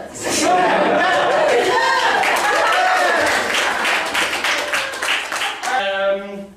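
Participants at a hypnosis and NLP bootcamp clap for a fellow course member: sustained, fairly loud applause blended with overlapping voices and chuckles, closing on a short musical tone.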